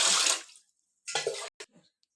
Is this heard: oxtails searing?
no